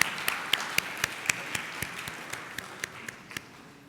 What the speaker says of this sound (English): Let's please all welcome him with a big round of applause.